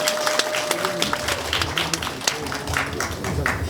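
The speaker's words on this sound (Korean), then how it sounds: "큰 박수 부탁드리겠습니다" A crowd claps steadily at a campaign office opening for a Reform Party candidate, dense applause filling the room without break, with faint voices mixed underneath.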